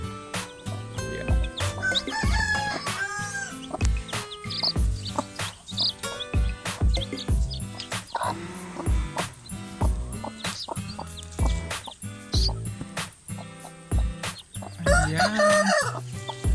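Rhode Island Red chickens and chicks clucking and calling close by, a dense, busy run of overlapping clucks, squawks and short crowing-like cries that continues loudly throughout without speech.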